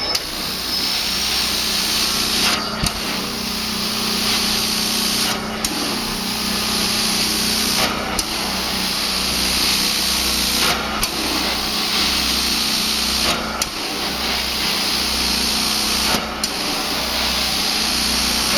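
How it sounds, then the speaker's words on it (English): A 2011 Prowler 13 hp carpet cleaning machine vacuuming up water gives a loud, steady motorized whine and suction roar, with brief regular dips every few seconds as strokes end. "Now we're gonna vacuum to pick up any excessive water."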